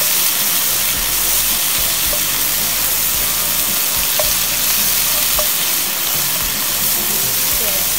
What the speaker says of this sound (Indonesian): Kita tumis dia.